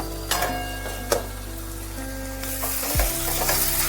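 Potatoes fry in a pan with turmeric, giving a steady broadband sizzle with a few sharp crackles and a brief scrape of stirring near the end, close and alone with no talk.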